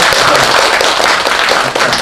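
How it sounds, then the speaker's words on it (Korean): Congregation at a Buddhist temple Sunday service applauding, loud and continuous clapping from a full room, close and dense throughout. "박수 한번 칩시다, 우리."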